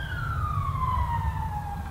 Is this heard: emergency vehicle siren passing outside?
yes